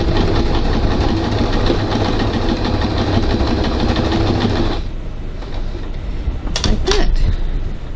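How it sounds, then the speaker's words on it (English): Sewing machine back stitching the end of a bag seam, a loud, fast mechanical whir that runs steadily and then stops, followed by a few clicks and handling noises. "I'm going to back stitch a few times so it doesn't come apart easily."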